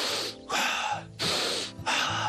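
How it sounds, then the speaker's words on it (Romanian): A person does special birth breathing, three long, forceful rasping breaths in a steady rhythm with short pauses between, close and alone. "Respirație specială pentru naștere."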